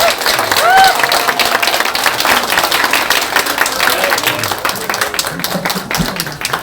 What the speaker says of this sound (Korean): 우리 긴 시간 동안 우리 수고해주신 추미애 장관님께 뜨거운 박수 부탁드리겠습니다.